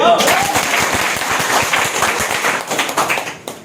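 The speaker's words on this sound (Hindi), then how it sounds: "जोरदार ताली।" A loud round of clapping from a large seated audience at a DXN business seminar, dense and sustained, then tapering off near the end.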